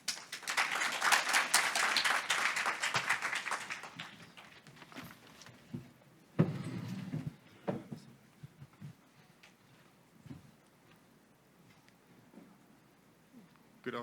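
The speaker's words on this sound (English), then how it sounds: "Please give him a round of applause." Applause from the audience at a Taiwan–Africa CEO forum, a burst of clapping for the first few seconds that dies away, followed by someone speaking.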